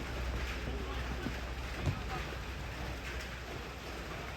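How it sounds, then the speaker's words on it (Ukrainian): Heavy rain pours down at an under-17 youth football tournament match in Morshyn, making a steady, dense hiss throughout with no clear breaks. "Ну, такой дощ сильний, дуже сильний."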